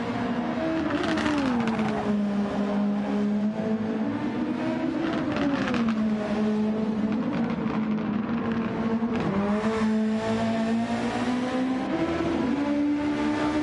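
Several high caliber race car engines from Grand Prix Legends at the Grand Valley circuit drone and rev steadily throughout, pitch rising and falling with gear changes, loud and continuous with no talk over them.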